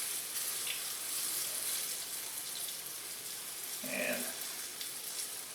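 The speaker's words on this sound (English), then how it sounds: "I'm not like super deep frying this." Quiet, steady sizzling of chicken curry frying in warm olive oil in a pan continues throughout, with a brief clink and a single spoken word near the middle.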